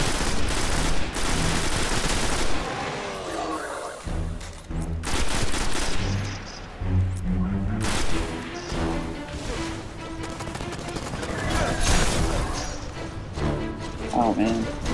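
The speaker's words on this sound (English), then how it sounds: "as I just shoot them in the head" Destiny video game gunfire on Mars, repeated loud bursts and rapid automatic shots scattered through a busy firefight, with someone talking over much of it.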